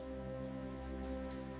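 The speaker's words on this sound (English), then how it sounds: "The rain nurtures the forest, linking sky and earth in a timeless cycle." Steady rain falls over a Swiss mountain village, a continuous close hiss with scattered brighter drops ticking on surfaces, alone with no voices.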